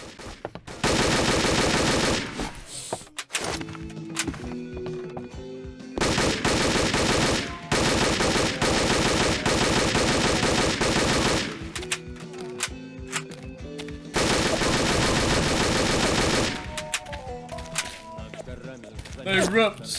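Pistol gunfire in the PC video game Specnaz 2, loud repeated bursts of shots in several long stretches separated by brief quieter gaps with game sounds.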